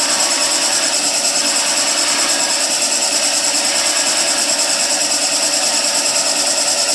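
A wood lathe spins steadily while a skew chisel rolls beads into the turning workpiece, giving a continuous, loud, even scraping whir that runs through the whole stretch with no talking.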